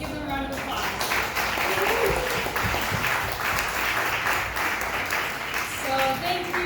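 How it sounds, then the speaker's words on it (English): Audience applauding panelists at a business panel event, a continuous dense clapping close by and fairly loud, steady throughout. "Let's give them a round of applause"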